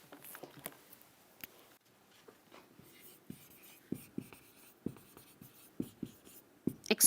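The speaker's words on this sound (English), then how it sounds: "Okay, let me write here." Marker or chalk taps and scratches on a board in an irregular series of short, close strokes and clicks during a grammar lesson, with quiet gaps between.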